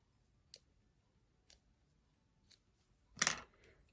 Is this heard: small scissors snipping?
yes